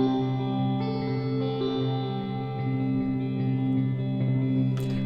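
A sustained tone runs through spring reverb panned left and right into a wide stereo spread, with a steady, echoing, metallic shimmer and a brief bright splash near the end.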